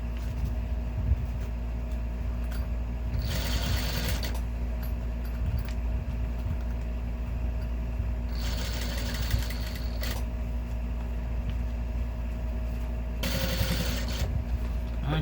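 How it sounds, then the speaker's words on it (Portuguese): A sewing machine stitches around the edge of a manicure bag in three short, steady whirring bursts over a constant low hum. "Aí a gente vai costurando toda a volta dele."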